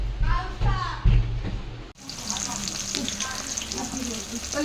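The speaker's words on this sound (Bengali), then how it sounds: "দেখো এই যে মাছ ভাজা হচ্ছে।" Fish frying in a pan at home, a steady broadband sizzle and crackle that runs throughout, with some louder low handling noise at the start.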